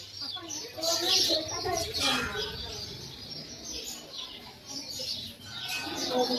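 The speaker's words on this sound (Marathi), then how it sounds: "चिमण्यांचा खूप आवाज आहे इथे" Many sparrows chirp at a temple in Dwarka, a busy, continuous twittering spread through the space, with faint voices and ambient murmur underneath.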